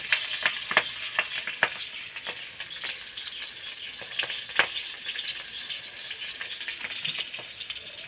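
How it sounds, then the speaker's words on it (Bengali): Black cumin seeds and green chillies crackle and sizzle in hot oil for tempering, a steady bright fry broken by sharp pops and spatters, close up with no voices. "কালো জিরে কাঁচা লঙ্কা ফোড়ন।"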